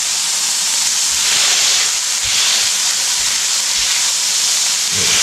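Smash burgers and onions sizzle loudly on a hot griddle, a dense, continuous hiss with small crackles that stays close and even throughout.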